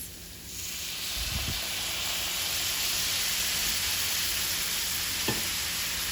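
Pineapple or orange juice poured into a pan of sizzling jackfruit for vegan carnitas, the frying surging into a loud, steady hiss after a brief quiet start, with a couple of soft knocks and no voices.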